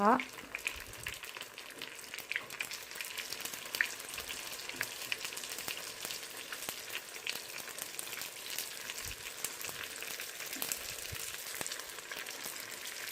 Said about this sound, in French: Dans une poêle remplie de l'huile, on va mettre notre préparation, samoussa, bourraque, etc.